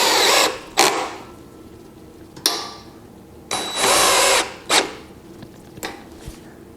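A power drill with a number 3 Phillips bit drives screws to fasten a sewing table leg set, giving several short, loud whirring bursts separated by pauses, close by and with no talking.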